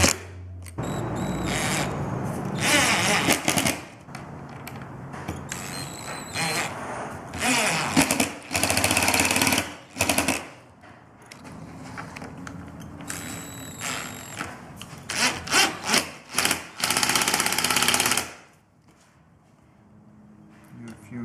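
Power driver screwing Rafix pins into the sides of a wall bed case, heard as repeated short whirring bursts mixed with clatter and handling noise, close by.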